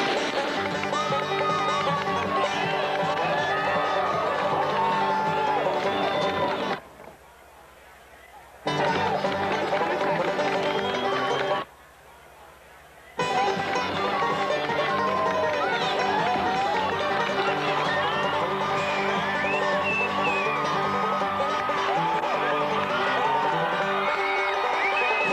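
A large crowd of about 15,000 gathered along Grayling's main street for the start of a canoe race roars with sustained cheering, whooping and chatter, interrupted by two brief silent cuts, with voices talking throughout.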